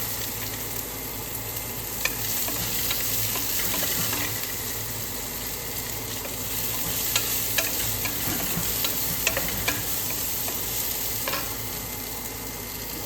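Green chillies frying in oil in a pan while cooking kakarakaya pulusu, giving a steady close sizzle with occasional crackles and stirring clicks throughout, with no talking.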